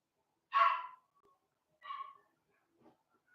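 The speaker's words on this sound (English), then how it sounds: "You hear that dog, y'all?" A dog gives two short barks, the first louder, followed by a faint yelp, each separated by silence.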